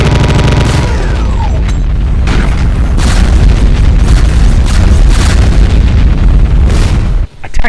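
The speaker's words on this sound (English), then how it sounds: "the single volley spread of BFG 10K shots" A volley of BFG 10K shots bursts in a Doom mod, a loud, dense barrage of booming blasts rolling on for several seconds before cutting out briefly near the end.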